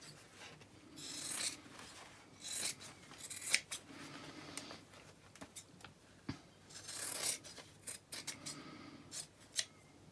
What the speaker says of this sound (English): you might want to layer by trimming one of the seam allowances slightly shorter